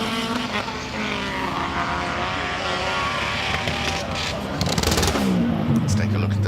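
Subaru BRZ race car accelerating hard off the line at the Simola hillclimb, its engine note rising loud and sustained, with a commentator talking over it throughout.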